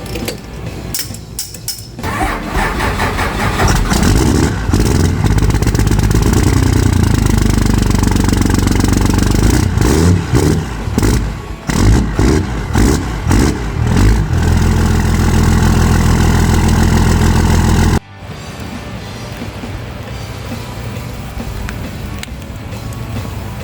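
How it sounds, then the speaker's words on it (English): A 1997 Dodge Ram 2500 pickup with a 12-valve Cummins diesel runs loud and close, a continuous heavy clatter and drone that swells in places, then drops to a quieter steady idle near the end. "we got ourselves a 1997 Dodge Ram 2500 with a 12-valve Cummins."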